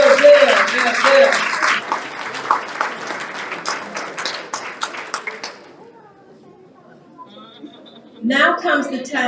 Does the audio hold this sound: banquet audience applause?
yes